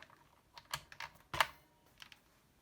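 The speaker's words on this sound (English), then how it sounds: "Here is the keyboard from the PET." Several keys on a Commodore PET graphics keyboard are pressed one at a time, giving sparse, irregular clicks of varying loudness, close and quiet.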